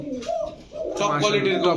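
A pair of Danish Magpie pigeons coo in throaty, rolling calls close by, mixed with a person talking over them.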